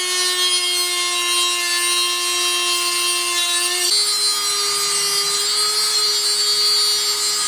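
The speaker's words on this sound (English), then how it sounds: "I'm gonna Dremel these hoses." A Dremel rotary tool cuts through hoses during a Honda head gasket job, a loud, steady high-pitched whine with a sharp pitch drop about halfway through as the bit bites into the material, running continuously with no talk.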